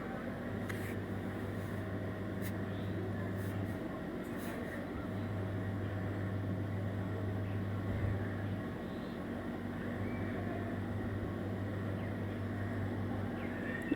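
An old electric sewing machine stitches lace onto a kurti strip, its motor humming in steady runs of several seconds that stop and restart over faint room noise.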